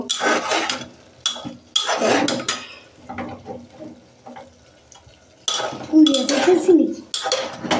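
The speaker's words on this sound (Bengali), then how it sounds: "মাংসগুলো দিয়ে নিছি, সুন্দর করে নেড়ে ছেড়ে ঢাকনা দিয়ে দিব" Meat sizzles in oil in a cooking pot as a utensil stirs it, with loud bursts of metal scraping and clanking against the pot separated by quieter gaps of frying.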